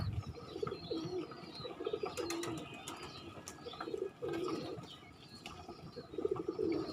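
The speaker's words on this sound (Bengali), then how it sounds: "অন্য কবুতরে ঠোকায়া কি করছে" Pigeons coo in low, repeated bursts around a loft, with a pecking squab, faint wing flaps and chirps over steady background noise; no talk.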